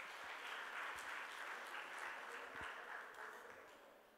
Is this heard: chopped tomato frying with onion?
no